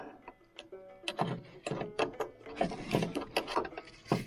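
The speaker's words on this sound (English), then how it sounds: "get my wrench onto that" A wrench works a nut on the shock mount of a 1932 Studebaker, giving quiet, irregular metallic clicks and ratcheting taps close by, with light clinks scattered through a few seconds.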